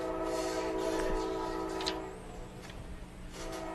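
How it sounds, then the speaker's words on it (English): A passing train near a baseball park during an American Legion game; a steady low rumble with a faint horn-like tone, persisting as a continuous distant drone throughout. "Train rolling through the area, probably here in the background here at Eagle Park."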